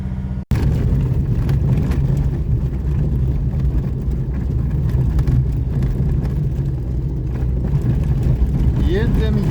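An MTZ tractor's diesel engine, just started and warming up before field cultivation, runs with a loud, steady, close-up rumble that holds unbroken for several seconds.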